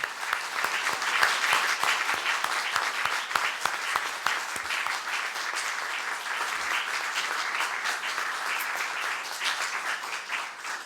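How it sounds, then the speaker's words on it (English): Audience applause at a university research prize and medal ceremony, a full room clapping steadily and densely for about eleven seconds, loud at first and easing slightly toward the end. "Now let's all give Professor Davé a warm final round of applause for a job well done."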